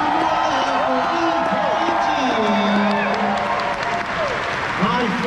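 A large convention crowd at a dance competition applauds and cheers loudly and steadily after a performance, with whoops rising through the dense clapping and voices calling out within it.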